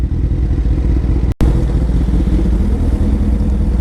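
A 2008 Honda CBR1000RR motorcycle pulls onto a highway, a loud, constant engine roar mixed with heavy wind rumble, heard close from the rider's position, with a brief dropout partway through.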